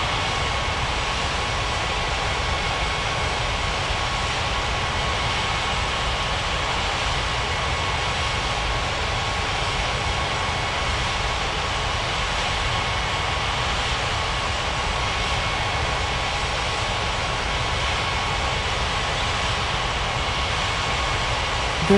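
Airliner jet engines in an air traffic control simulation game at the runway, a steady, loud broadband roar that holds unchanged throughout with no talk over it.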